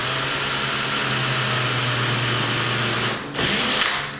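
A power drill bores angled pilot holes into a wooden door jamb for a deadbolt installation, a steady, close, whining motor hum for about three seconds, then a brief pause and a short second burst.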